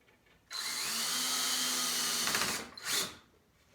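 A power drill drives small screws into 1x4 boards for a hutch add-on, with one sustained close whir of about two seconds, then a brief second burst as it winds down.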